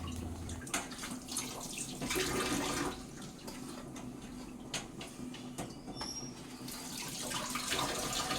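Pieces of catla fish are rinsed under a running kitchen tap, a steady, faint splashing water flow with light knocks and shifts as they are handled.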